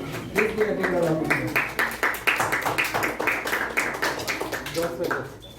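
Audience applause at a youth leadership programme event, a steady crowd of rhythmic claps lasting several seconds, close and fairly loud, with a voice speaking over it near the start and end.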